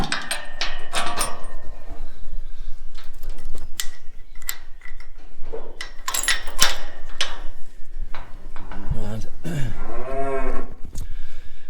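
Cows and calves moo repeatedly on a grazing farm, several long lowing calls overlapping at varying distances, some near and loud, with no talk.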